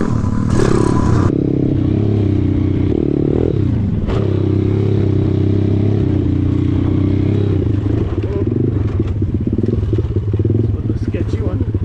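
A pit bike rides through woods at night, its engine droning loud and steady throughout with clattering and scraping over rough ground, and a voice talking under the noise.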